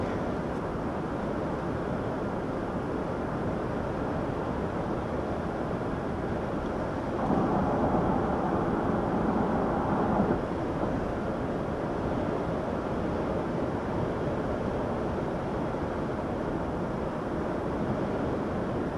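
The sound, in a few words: wind blowing around a parked SUV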